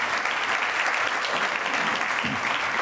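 Steady, full applause from an audience fills the room as honored school district leaders stand to be recognized at a Kansas State University school district academies celebration, sustained without a break.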